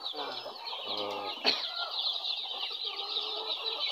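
Large desi rooster, a colored breed, with hens kept indoors on a village farm in Jamalpur, Bangladesh, clucking briefly near the start, with a burst of wing flapping mid-clip under a steady high chirping background and a short spoken word.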